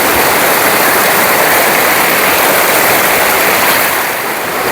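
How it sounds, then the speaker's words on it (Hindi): A very cold mountain river rushes beneath a makeshift bridge, a loud, steady, continuous roar of flowing water filling the whole stretch. "नीचे से पानी जो नदी बह रही ना है, बहुत ही ठंडा पानी है।"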